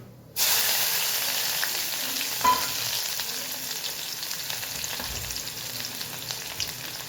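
Finely chopped onion for masala dosa filling hits hot oil with an abrupt loud sizzle that settles into steady frying, broken by a clink and faint stirring.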